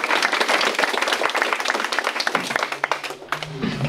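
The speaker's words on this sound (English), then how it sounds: "a one round of applause for all the fabulous people." An audience at a conference session applauds the panel, a lively round of many clapping hands that starts dense and loosens into sparser, distinct claps toward the end, with a low voice entering.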